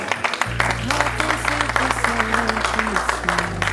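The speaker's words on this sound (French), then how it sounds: "Est-ce que vous pouvez applaudir pour vous-même?" Guests at a civil and religious wedding celebration in Lyon clap in quick, regular beats over loud music with a deep bass line and a shifting melody.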